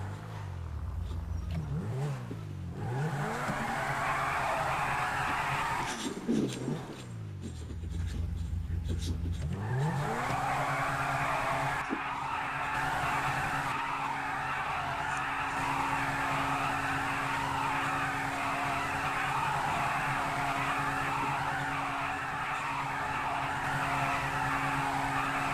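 A car in the GTA 5 video game accelerates with rising engine revs and repeated tire squeals and skids, then holds a long steady engine drone with continuous skidding noise, up close and loud.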